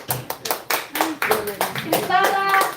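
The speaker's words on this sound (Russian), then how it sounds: "аплодисменты" A small group claps during a gift presentation at a corporate event in Yakutsk, with sharp uneven hand claps close by and people, including a child, chatting over them.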